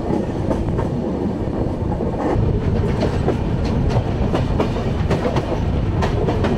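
The Kamrup Express, Howrah to Dimapur, runs across the Gadadhar bridge: a steady rumbling roll with rhythmic clickety-clack wheel beats on the rails, close and continuous, without speech.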